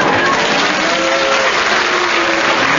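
A studio audience claps in a steady, full burst of applause, loud and sustained for the whole stretch.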